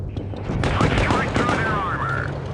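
Tank cannon fire in World of Tanks Blitz, a burst of rapid loud shots with echoing impacts and whistling shell sounds, heard under a voice talking.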